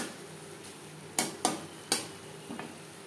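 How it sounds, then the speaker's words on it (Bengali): A spoon clinks against a pan while spiced potatoes are stirred: four quick taps in about a second and a half, over a faint low sizzle in a quiet kitchen. "চার 5 মিনিট নাড়াচাড়া করে নেব।"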